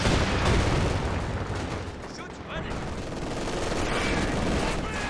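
Artillery fire in Company of Heroes 2, zeroing barrage hitting during a 2v2 match: dense continuous rumbling bursts and gunfire crackle fill the scene, with distant booms under layered battle noise and some talk.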